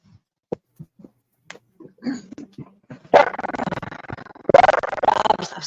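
A dog gives a few sharp isolated barks and yips, then breaks into bursts of rapid, loud barking up close, with faint talk early on.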